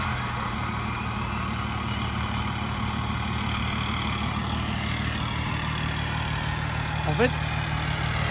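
An Audi A6 estate engine runs at a steady idle, a low, even rumble heard close by, with a brief bit of talk near the end.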